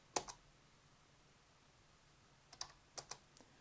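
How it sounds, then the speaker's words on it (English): Faint, sparse keystrokes on a computer keyboard as a Linux command is entered: one click, a long quiet pause, then a short cluster of four or five taps near the end. "so I type touch cloud2.txt"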